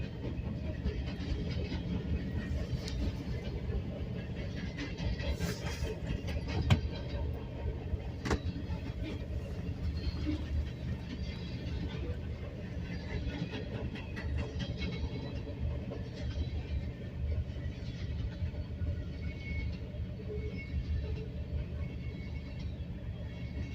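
Freight train rolling past at a steady pace, a constant low rumble with wheel and car noise and occasional clanks, fairly distant and even in level throughout.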